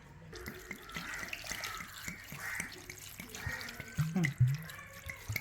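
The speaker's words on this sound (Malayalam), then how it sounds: "കുറച്ച് വെള്ളം അങ്ങോട്ട് ഒഴിക്കണം" Water pours steadily into a pot of tapioca and beef biryani, a continuous splashing stream with a few metallic clunks toward the end.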